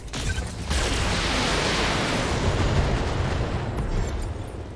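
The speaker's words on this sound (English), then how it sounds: "All weapons, fire." BattleTech mech weapons fire in a loud, sustained barrage of booming blasts and explosions after a brief opening shot, rumbling heavily and continuously to the end.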